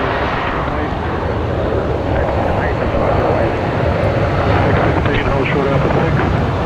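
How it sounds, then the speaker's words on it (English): A Qantas airliner bound for Auckland rolls for takeoff at Brisbane Airport, its engines a loud, steady broadband roar that holds throughout with no break. "Sounds like we've got Qantas 125 now rolling as well, heading off to Auckland tonight."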